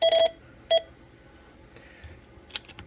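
An Anytone AT-6666 CB radio lets out short electronic beeps, a double-pulse tone followed by a single beep, close and clear against a quiet room.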